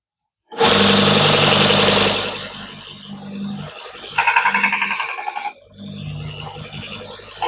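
A reground Robert Sorby skew chisel takes a test cut on a spinning lathe workpiece: a sudden loud, rough cutting whir starts, fades, then returns in two more shorter passes, close and without speech.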